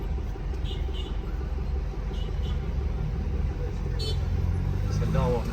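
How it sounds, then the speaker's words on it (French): A car slows and stops at a pedestrian crossing amid busy street traffic, a low, steady road rumble heard at a distance under faint voices. "lui avec la voiture, il va s'arrêter sur le passage piéton"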